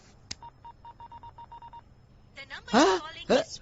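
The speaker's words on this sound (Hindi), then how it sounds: "जरा उस क्रिश को फोन लगा" A quick series of about ten evenly spaced touch-tone beeps as a number is dialed, followed by a voice speaking briefly.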